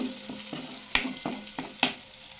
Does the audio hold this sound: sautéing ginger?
yes